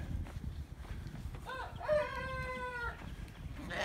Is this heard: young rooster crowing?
yes